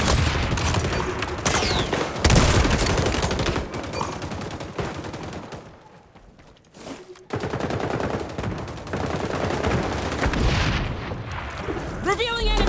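Gunfire in the XDefiant video game, dense continuous bursts of shots and explosions filling nearly the whole stretch, with a brief lull midway, loud and close, with a voice talking over the action.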